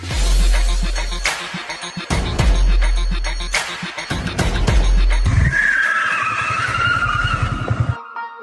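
Racing cars skid hard, with loud screeching tire squeals and engine roars coming in several close bursts, then a long high-pitched skid that fades out near the end.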